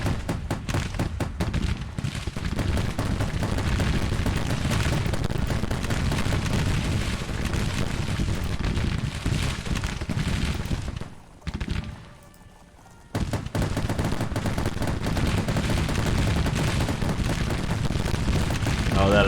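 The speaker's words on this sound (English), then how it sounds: "Alright, Gatling gun time. Target them. Listen to those." Gatling guns fire in rapid, sustained bursts during a Civil War battle in Grand Tactician: The Civil War, a dense rattling barrage that drops out briefly near the end before resuming at full loudness.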